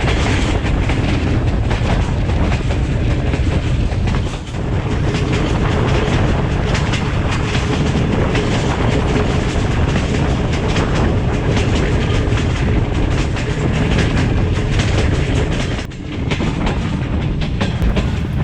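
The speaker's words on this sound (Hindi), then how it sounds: "ट्रेन का सफ़र और ट्रैक साउंड्स" The Allama Iqbal Express runs from Sialkot to Lahore on branch line tracks at modest speed. A loud, continuous rumble with clickety-clack wheel beats is heard from inside the carriage, with no talking.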